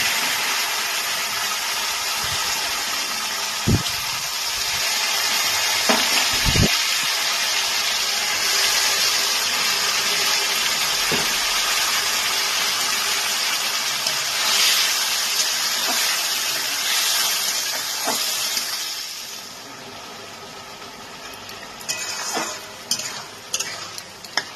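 Ash gourd added to hot spice tempering in a pan sizzles and fries with a dense steady hiss, punctuated by a few sharp clinks and scrapes of stirring, close and continuous, quieting near the end.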